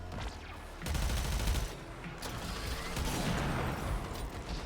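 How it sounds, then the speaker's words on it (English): A vortex explosion in the video game Warframe bursts out loud in a dense, crackling boom that swells about a second in and holds a busy, gunfire-like roar for several seconds without speech. "that was a nice vortex explosion right there"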